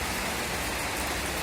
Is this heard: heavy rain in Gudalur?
yes